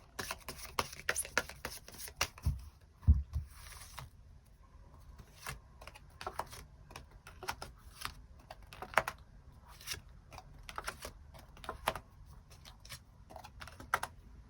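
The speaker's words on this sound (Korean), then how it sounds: "추가 카드 뽑아보도록 하겠습니다" Tarot cards are shuffled and drawn close by, producing quiet, irregular clicks, flicks and soft slaps of card stock. The sounds come in scattered bursts against near silence, with no talking.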